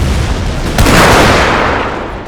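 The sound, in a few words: cannon shells landing in forest battle, video game Total War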